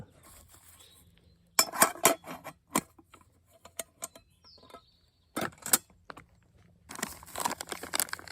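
An old metal camping cook set from around the 1930s being handled, with bursts of clanking, rattling and scraping metal separated by quiet pauses, close and fairly loud.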